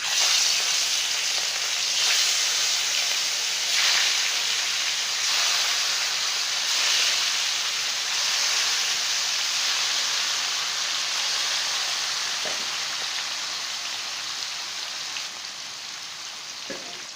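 Rui fish pieces frying in hot mustard oil, a loud continuous sizzling hiss with steamy spitting that stays strong and slowly eases toward the end, with a few faint clinks and no speech.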